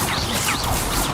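Incendio fire spell cast in Hogwarts Legacy, a short roaring whoosh of flame lasting about a second, loud and continuous.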